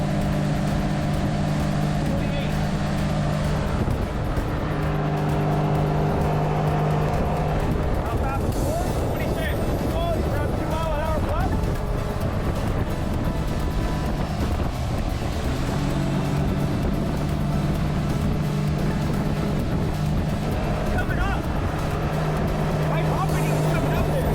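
A motorboat fitted with a Panther Marine Model 55 trim and tilt runs out on the water, its engine giving a steady loud drone with shifting pitch throughout, with voices speaking at times over it.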